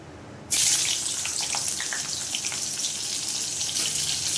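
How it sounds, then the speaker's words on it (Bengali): Potatoes hit hot oil in a pan that was just used to fry bitter gourd, and a loud hiss bursts out abruptly. It then holds as a strong, steady sizzle that stays close and continuous. There is no talking. "এবার আমি আলুগুলো ভেজে নেবো ওরকম করে"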